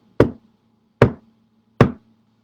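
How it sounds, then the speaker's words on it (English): Three sharp knocks at night ring out at even intervals about a second apart. Each strike is loud and close, and the room is quiet between them. "Wow. knocks, just like that."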